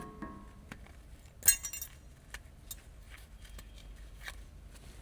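Small metal brake pad retaining clips come out of a rear brake caliper on a 2007-2017 Jeep Wrangler, giving a few sharp, close metallic clinks and jingles, one louder rattle near the start, over a quiet background.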